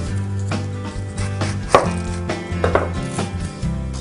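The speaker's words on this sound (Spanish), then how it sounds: "Lo mismo, hacemos rodajas de cebolla." A knife cuts an onion into rings on a board, giving a quick series of crisp, close chops, a few louder knocks among them, with no talking.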